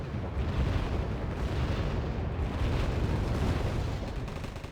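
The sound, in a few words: explosion as an SU-22 is shot down, Wargame Red Dragon video game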